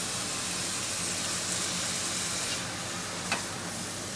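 Peppers chargrill in a hot pan, giving a steady close sizzle throughout with a brief sharper crackle near the end.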